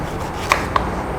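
Two sharp knife cuts through capsicum on a cutting board, one at a time with a short pause between, close and clear over a quiet kitchen background.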